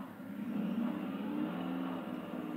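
A big, heavy car's engine is given gas, a low rumbling rev that swells briefly and then settles, fairly faint and heard alone without talk.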